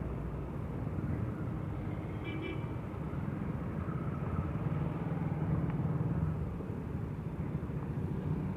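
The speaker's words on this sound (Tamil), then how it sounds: "டிராஃபிக்." Steady low road-traffic rumble heard from a moving scooter, with engine drone and passing vehicles blending into a constant wash and a faint horn-like tone briefly.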